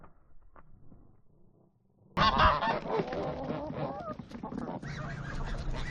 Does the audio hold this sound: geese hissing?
yes